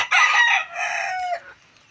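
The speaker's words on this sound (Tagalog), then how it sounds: "So yan yung ating labuyo. Mga idol, ah. labuyo yung tandang." A red junglefowl rooster crows once, loud and close, a bright two-part call that rises and then trails off, with nothing else around it.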